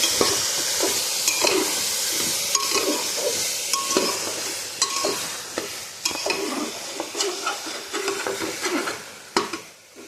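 Spice masala stir-fried in a pan with garlic, onion and oil: a continuous sizzling hiss broken by repeated scraping stirs and light metallic clinks of a spoon against the pan, close and fairly loud.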